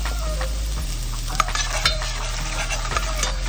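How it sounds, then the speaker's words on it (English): Garlic frying in hot oil in a pan on a preheated stove, a steady close sizzle with occasional scraping stirs and light utensil clicks. "First, I preheat ang kalan and then you add the oil. Then after that, you can add your garlic."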